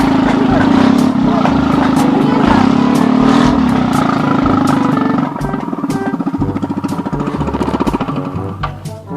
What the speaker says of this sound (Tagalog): medyo maingay ang ating motor